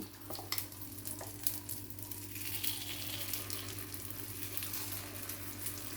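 Paniyaram batter cooking in a paniyaram pan, a soft continuous sizzle with light hiss and a few faint clinks, close and quiet.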